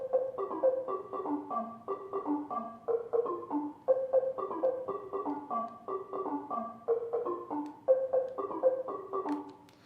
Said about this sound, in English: we add this little piano synth art thing